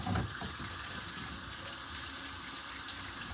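A kitchen sink tap runs water in a steady, soft rush while hot sauce ingredients are washed out, with a brief splash at the start and no talking.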